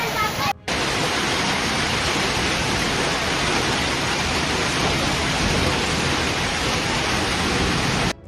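Dense, roaring clatter of a heavy hailstorm pounding surfaces in Albacete, Spain, constant and loud throughout with no letup.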